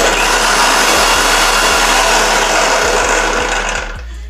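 A blender whirs steadily, mixing a thick protein shake of milk, loud and continuous with no talking, then winds down near the end.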